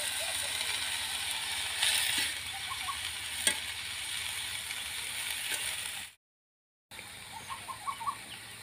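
Chopped cowpea leaves and spinach sizzle and crackle in a hot pan with occasional stirring scrapes, a steady broadband hiss that cuts out briefly near the end before resuming with small pops.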